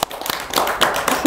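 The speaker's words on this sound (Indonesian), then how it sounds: "Tepuk tangan dong." A few quick hand claps at a fashion-show gathering, sharp and close, scattered irregularly across a brief moment with some background room noise.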